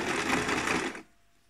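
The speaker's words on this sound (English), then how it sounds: "You'll then need to change your stitch type to a zigzag stitch." A sewing machine runs a zigzag stitch along the edge of a towel, whirring steadily and close for about a second before stopping.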